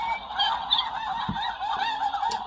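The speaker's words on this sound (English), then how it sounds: "That's the snow goose." Snow goose calls play from a Cornell Lab bird sound book, a continuous flock of overlapping nasal honks and yelps at moderate volume, with no talking.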